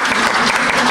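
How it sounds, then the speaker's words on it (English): An audience at an author's book talk breaks into clapping, a loud, close, dense burst of applause lasting under a second with no speech. "Okay, now you can clap."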